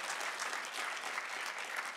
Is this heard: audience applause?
yes